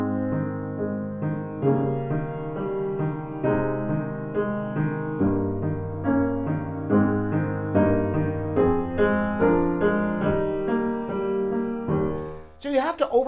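Piano passage played with deliberately uneven touch, letting the natural weight of the fingers set each note's loudness, producing a flowing run of notes with irregular accents; close and alone, ending with a brief noise.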